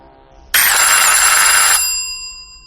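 A telephone bell rings in one loud, bright burst of metallic ringing lasting just over a second, then fades away; no voices are heard.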